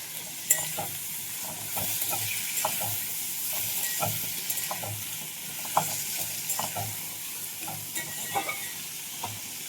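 Chopped tomato, chilli and salt fry in mustard oil for a homemade veg khichdi, stirred with a spoon: regular scraping strokes tick over a steady, soft sizzle.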